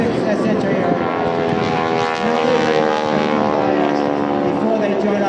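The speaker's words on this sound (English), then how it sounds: "We're proud to be able to demonstrate to you the capability of these classic World War II T-6 SH aircraft." Vintage World War II T-6 aircraft fly at a beach air show, their loud, droning propeller engines roaring steadily overhead while an announcer speaks over the sound.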